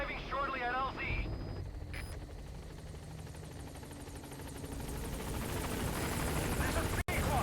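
Helicopter arriving at a landing zone in Metal Gear Solid V: The Phantom Pain on PS4, a steady rotor and engine drone that holds loud and continuous, with a brief radio voice near the start.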